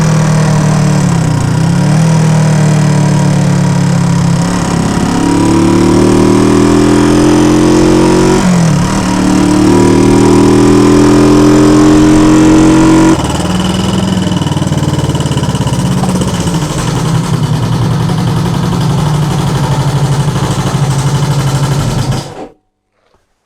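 A car engine under restoration revs repeatedly to high rpm, loud and close, its pitch climbing and falling in several sweeps before settling to a rough idle and cutting off near the end.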